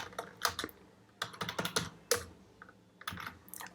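Keys clatter on a computer keyboard as a PAN number is typed, a quick irregular run of close, crisp clicks in short bursts with small pauses between.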